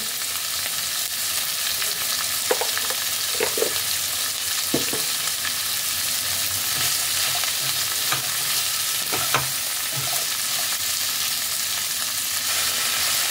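Onion, capsicum and other vegetables stir-fried in a little oil for a healthy diet chicken dish, a constant close sizzle broken by occasional spatula scrapes and taps against the pan, no talking.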